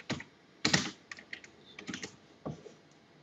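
Computer keyboard typing in short irregular bursts of clicks and key taps, close and fairly quiet, with no talking.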